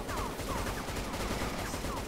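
Constant rapid gunfire from the Roblox Cali Shootout shooting game, dense overlapping shots crackling without pause at moderate volume.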